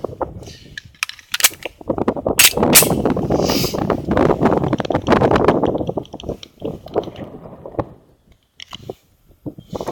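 A Ruger SR 9mm pistol fires G2 Research R.I.P. rounds into 55-gallon drums: several sharp, close cracks in quick succession, each followed by a ringing metallic echo, then a quieter tail.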